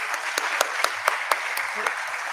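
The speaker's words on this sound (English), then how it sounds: "Round of applause, please." An audience at a forestry policy youth event claps in a brief, moderately loud burst with distinct individual claps, and a voice is faintly present underneath.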